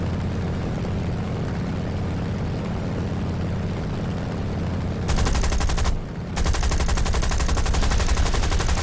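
Aircraft machine guns strafe during an attack run in War Thunder, a steady engine drone giving way to two loud sustained bursts of rapid gunfire separated by a brief pause.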